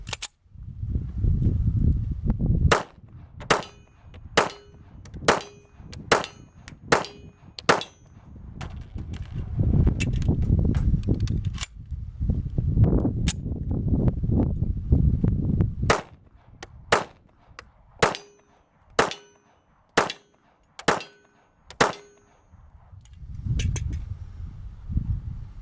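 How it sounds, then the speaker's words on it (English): A Remington R1 1911 pistol fires Tula steel-jacketed .45 ammunition outdoors in evenly spaced sharp shots, several strings of single reports separated by pauses and rustling handling noise. "We're going to go ahead and do a function test and fire 3 magazines full"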